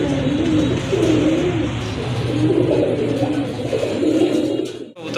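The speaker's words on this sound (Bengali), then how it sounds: "রাজগোল্লা কবুতর, মাশাআল্লাহ খুবই সুন্দর কবুতর, অনেক বড় সাইজের কবুতর" Rajgolla giribaz racing pigeons coo close by in soft, repeated throaty rolls over a low background hum, continuing steadily for the whole stretch.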